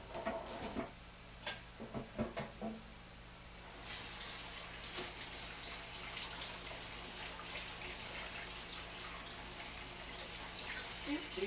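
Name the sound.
rinsing hand under running tap water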